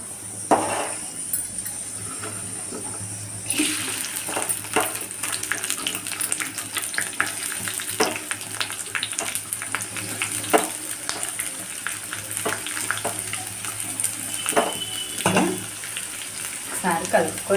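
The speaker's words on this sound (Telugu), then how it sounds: "ఆయిల్ హీట్ అయ్యాక ఆనియన్స్, కరివేపాకు, ఇంకా పచ్చిమిర్చి ఇవి వేసుకున్నామండి." Onions, curry leaves and green chillies sizzle steadily in hot oil in a pan, with a constant frying hiss, occasional stirring scrapes and light clinks throughout.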